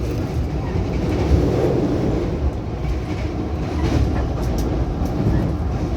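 Steady rumble of the KA Kaligung economy class K3 New Image train running, heard from inside the carriage, a continuous loud low roar with faint rhythmic clatter from the rails.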